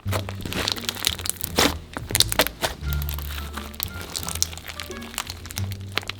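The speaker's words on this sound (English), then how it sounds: "it's nice and crunchy and crackly and stuff" Fluffy holiday slime being poked gives off a busy run of close, crisp crunching and crackling pops, with a low humming tone running steadily beneath.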